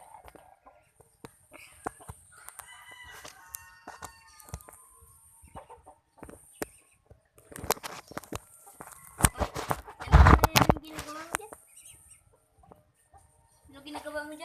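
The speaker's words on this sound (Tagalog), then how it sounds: "Ito yung manok gagamitin namin." A large rooster kept for cockfighting gives scattered clucks and soft fowl calls outdoors, mixed with rustling, footsteps and a few loud knocks, with no sustained speech.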